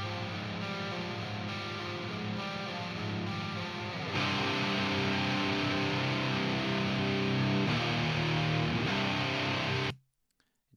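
Two distorted electric guitars play together in a thick, layered spread, their differing tones blending steadily and loudly for about ten seconds before cutting off abruptly into near silence.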